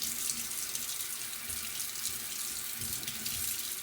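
Water runs steadily from a garden hose while plants are watered, a continuous hissing splash at moderate distance, with no talk.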